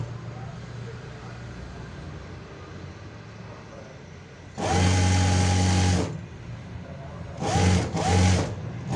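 An electric sewing machine stitches a straight seam on a plain blouse, running in one loud steady burst of about a second and a half, then two shorter bursts, over a quiet room hum.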